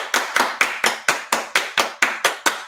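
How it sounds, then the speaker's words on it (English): A group of people claps hands in unison during a song at a gathering, about ten sharp, evenly spaced claps in a steady beat, loud and close with no talking. "Everybody clap your hands."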